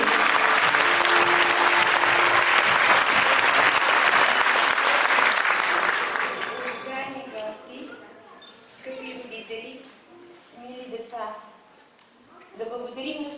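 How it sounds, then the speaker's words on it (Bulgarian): An audience at a kindergarten's 50th anniversary celebration claps in loud, dense applause for about six seconds. It then fades into a voice speaking and background murmur. "Аплодисменти!"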